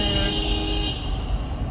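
A car horn honks inside a road tunnel on a road trip. One sustained tone rings over a deep, echoing traffic rumble and fades after about a second.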